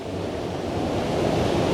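A small, miniature waterfall along a cliff path, a steady rushing wash of falling water with a faint low rumble, loud and unbroken throughout.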